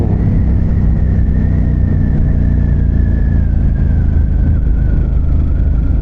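A Ducati Hypermotard 950 RVE fitted with a Termignoni exhaust runs steadily near the microphone during a night ride, its engine holding a continuous loud drone with a slowly drifting pitch and no talking over it.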